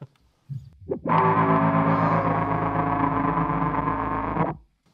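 A Keeley Synth-1 guitar synth pedal with its chaos switch engaged sounds one loud, sustained distorted synth tone for about three and a half seconds, with a few brief plucked notes just before it and a quick cutoff.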